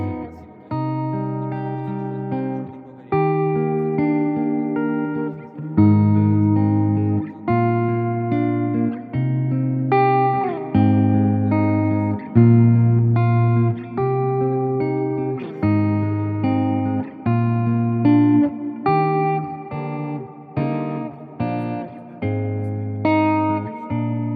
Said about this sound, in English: this is a different reverb because this is much more dirty, and I will add the controllable reverb only for the guitar signal